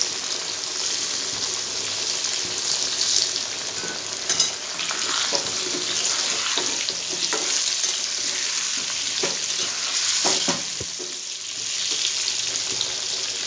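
Potatoes frying in a pan with turmeric and salt give a steady, close sizzle with a few stirring scrapes and small pops, continuous throughout with no talking.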